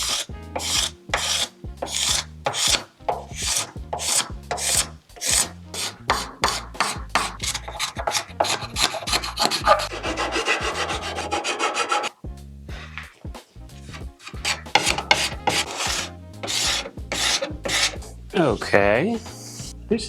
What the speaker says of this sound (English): Let's try to get some of this excess epoxy out of here.